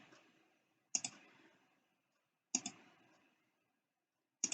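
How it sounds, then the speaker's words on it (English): Three sharp double clicks of a computer mouse, spaced evenly about every two seconds, close and crisp against near silence, each followed by a faint trailing rustle. "Just hover your cursor there and click it."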